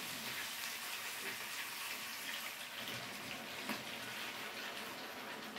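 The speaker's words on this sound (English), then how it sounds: "Okay, so I decided to add a little bit of water." Water poured into a hot pan of stuffed pork chops on the stove sets off a faint, steady hiss and crackle of sizzling and steam, heard alone with no talking.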